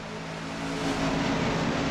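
Race cars in the NR2003 racing game accelerate together at the green flag, a dense, steadily swelling engine roar that grows louder over two seconds with no voices.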